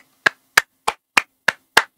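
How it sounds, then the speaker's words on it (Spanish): Six sharp, evenly spaced hand claps, close and crisp, about a third of a second apart, each standing alone against silence. "se merece un aplauso"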